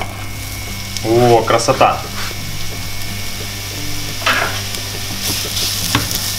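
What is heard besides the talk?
vegetables frying in oil in a pan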